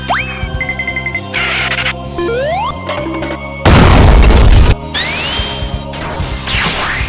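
Explosions and impacts from an action video game: a loud booming blast burst stands out in the middle, surrounded by whooshes, crashes and synthetic effects over a continuous game soundtrack, with no talking.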